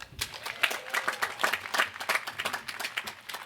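Steady applause from a law school commencement audience, a dense, even patter of many hands clapping at moderate distance, holding throughout without voices.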